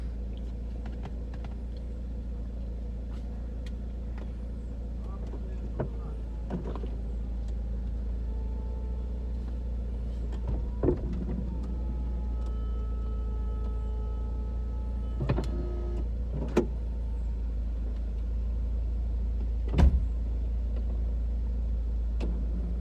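A BMW Z4 with a swapped engine and a boost leak under repair drives along, its steady low rumble and road noise filling the cabin, with a few faint clicks and thumps on top and nobody speaking.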